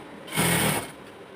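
A sewing machine stitches the hem of a palazzo in one short, steady whirring run of about half a second, close and clear, with quiet room tone before and after.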